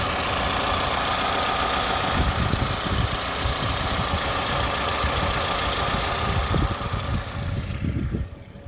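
A Toyota Estima ACR30 contract engine with automatic transmission idles steadily, a loud, even mechanical hum with a faint ticking rhythm, close up and without talk, tapering off at the very end.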